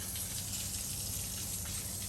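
Water running steadily from a tap under a kitchen at a house build site, a faint, continuous gushing hiss without breaks.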